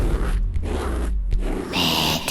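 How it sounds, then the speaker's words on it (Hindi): Raspy scratching and scraping for a horror scene of something clawing toward a coffin, close and continuous with brief pauses, then a brighter rasp at the end. "धीरे धीरे खरोंचने की आवाज मेरे ताबूत के और करीब आ रही थी।"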